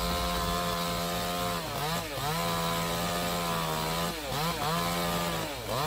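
Chainsaw cutting into a rotten tree, running loud and close with a steady high whine that dips briefly a few times as the blade bites, no voices.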